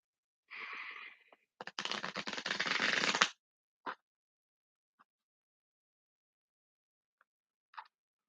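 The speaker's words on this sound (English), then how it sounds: "I'm going to shuffle these 2 more times actually" Tarot cards being shuffled up close, with a short riffle and then a longer dense burst of flicking cards, followed by a few faint taps in near silence.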